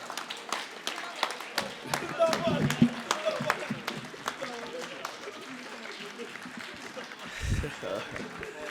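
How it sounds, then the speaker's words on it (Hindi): Audience applause at a Hindi kavi sammelan poetry recital, a scattered run of claps that swells in bursts and fades, with someone speaking over parts of it. "अब वही ताली बजा रहे जो मॉर्निंग वॉक पर नहीं जाते"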